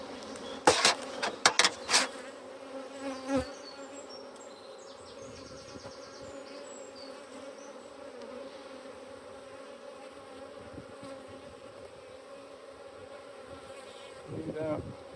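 Honey bees hum in a steady, close, continuous drone during a hive inspection, with a few sharp knocks and clicks from handling the hive near the start and a soft thump at the end.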